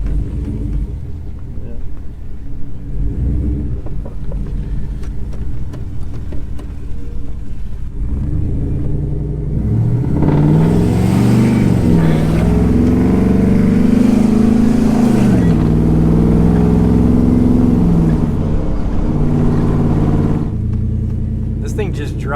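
Shop truck engine rumbling while driving, a steady low drone that swells louder and rises in pitch as it accelerates midway, then settles again, heard up close inside the cab.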